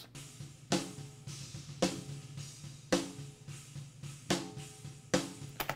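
A snare drum with its bottom mic out of phase, struck in a slow, steady beat, each hit thin and hollow-sounding with a short ringing decay, played alone.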